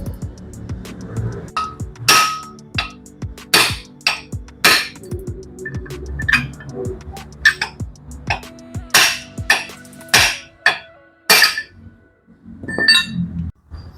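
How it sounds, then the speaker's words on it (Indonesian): Loud, irregular metallic hammer blows ring out while a welded wheel bearing race is knocked free from an Opel Blazer hub, with dozens of sharp clanging strikes in quick uneven succession, close up. "Ini agar kita bisa pukul ya di bagian sininya"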